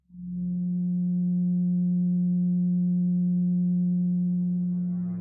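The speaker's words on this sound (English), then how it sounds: "let's listen to what the 180 total degrees contained in a triangle sound like" A steady pure 180 Hz sine tone sounds alone, loud and unchanging, for about five seconds, standing for the 180 degrees of a triangle, with a soft onset and a faint fade at the end.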